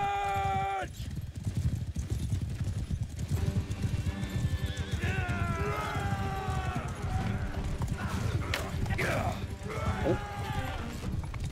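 Horses gallop in a battle in Mount and Blade II: Bannerlord, a video game. Hooves drum continuously and loudly while several horses whinny and neigh over the rumble, with crashes mixed in.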